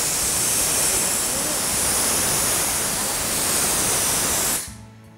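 A pressure cooker vents steam while matar pulao cooks, giving a loud, steady, close hiss that runs for several seconds and then cuts off abruptly.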